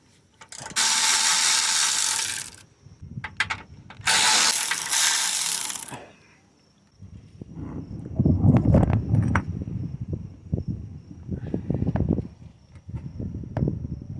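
A 14 mm bolt is taken out of the motor mount of a 2008–2012 Honda Accord 2.4: two loud whirring bursts, then close, rapid ratchet clicking and mechanical rattling that go on in uneven runs.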